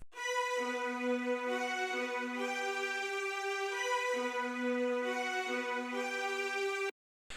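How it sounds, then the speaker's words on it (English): A sustained string-section pad of violins from a Nexus plugin in an FL Studio beat plays a held, slowly shifting chord progression for about seven seconds before cutting off abruptly. "We got these violins. I'm getting these from Nexus and they sound like this."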